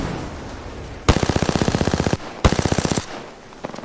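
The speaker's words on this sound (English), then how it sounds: "Getting shot at." Rapid automatic gunfire from a video game shootout, two loud sustained bursts of evenly spaced shots about a second each, separated by a short pause, with a few scattered shots trailing at the end.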